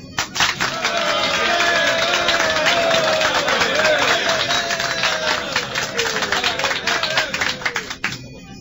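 Townspeople of Pompeii applauding a victor at an arena spectacle, staged as a radio drama effect: a dense, sustained crowd clapping with cheering voices, loud and continuous, fading out near the end.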